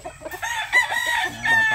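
A Gilmore Hatch gamecock rooster crows in a short, loud cock-a-doodle-doo, close by, with faint background chatter around it.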